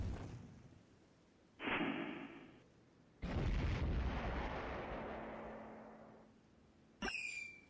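Fire spell effects from the Golden Sun video game burst out one after another: a short crackling blast, a longer roaring whoosh that slowly fades, then a sharp final flare, each loud against near silence.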